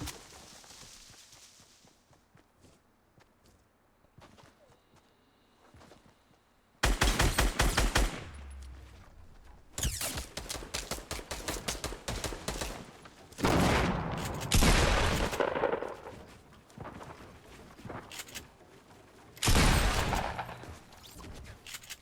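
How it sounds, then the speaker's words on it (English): Pump shotgun fire in Fortnite Battle Royale, with several sharp loud blasts and bursts of rapid gunfire that come in clusters after a quiet opening stretch of faint game ambience. "A nice little pump shot right there."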